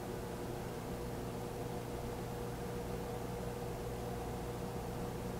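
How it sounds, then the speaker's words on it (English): A steady, even hum of a running microwave oven powered by a 12V battery, quiet and constant with no other sounds. "you can hear the microwave being on right now."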